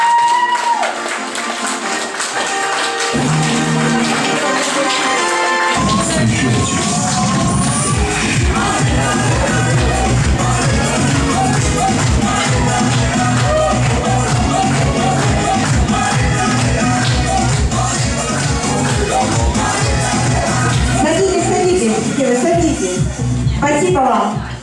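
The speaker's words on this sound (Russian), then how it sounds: "Аплодисменты!" Guests applaud the groom's parents at a wedding, steady crowd clapping and shuffling blended with loud music throughout, with voices mixed in.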